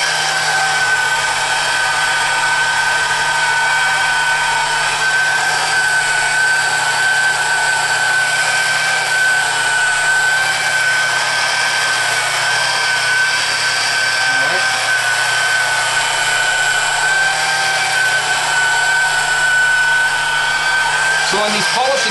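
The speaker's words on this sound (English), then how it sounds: "on these polishing passes, I'm actually twisting the base of the polisher a little bit to give me a little bit of a bite" A window polisher works hard-water stains off glass in Rancho Mirage, California, a steady close whine with a high tonal hum running unbroken throughout, with brief voices underneath.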